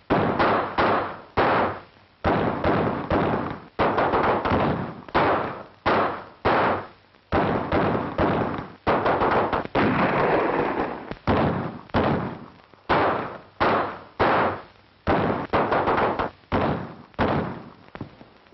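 Burst after burst of gunfire during an ambush in a valley, loud repeated sharp reports arriving in rapid clusters with brief gaps over about eighteen seconds, no voices in between.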